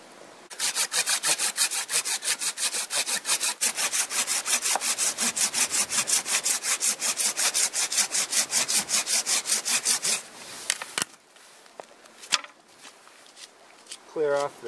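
Hand saw cutting through a Chinese privet stump in fast, even back-and-forth strokes, close and loud, stopping before a few scrapes and knocks and brief talk.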